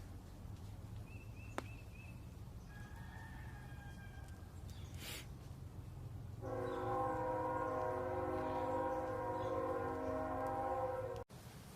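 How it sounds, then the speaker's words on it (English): A train goes by outside in front of a school, its loud, sustained horn blasting for about five seconds over a steady low rumble of rolling cars before cutting off abruptly. "Let this train go by"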